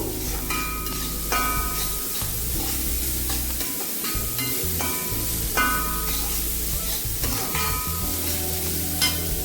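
Chicken fried rice ingredients stir-fry on a high flame with a constant loud sizzle, broken by repeated clanks and scrapes of a utensil against the pan.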